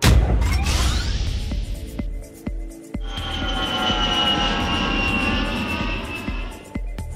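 A Cebu Pacific airliner's jet engines roar steadily and loudly at close range, with a rising whine, a few sharp knocks and a sustained high tonal hum beneath the broadband rush.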